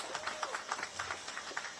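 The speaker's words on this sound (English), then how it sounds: "let's give the Commissioner a round of applause." Audience at a DC school-year kickoff event clapping for the Commissioner, a moderately faint, steady patter of many hands with scattered louder claps.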